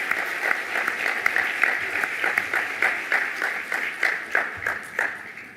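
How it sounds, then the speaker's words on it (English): An audience applauds a troupe of young performers from Mongolia at a climate change conference: steady, full clapping that goes on for several seconds with a regular, dense patter, the crowd sound fairly near and even. "Let's give them another round of applause."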